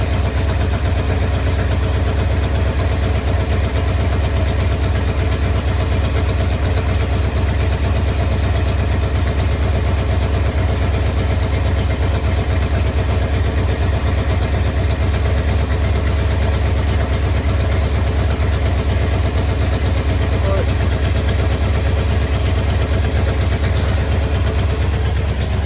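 Car engine idling with a Holley 4 barrel carburetor, a loud, steady low rumble that holds constant throughout, close up with no talking.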